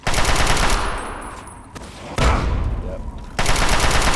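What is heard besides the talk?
gunfire from the video game Fallout 3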